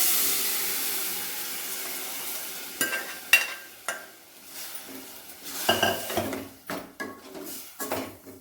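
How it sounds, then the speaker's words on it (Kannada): Tempering for dal frying in a pan, a hissing sizzle broken by repeated scraping and clanking of a spoon against the metal, with bursts of steam. "ಸ್ವಲ್ಪ ಹಸಿ ವಾಸನೆ ಹೋಗೋವರೆಗೂ ಫ್ರೈ ಮಾಡ್ಕೊಳ್ರಿ"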